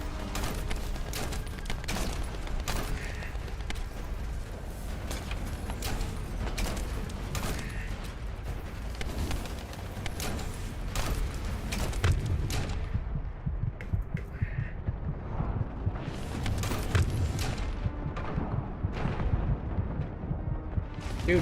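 Gunfire in the video game The First Descendant, a dense, continuous barrage of booming shots and impacts throughout a long stretch of combat, loud and heavy with steady rumbling underneath.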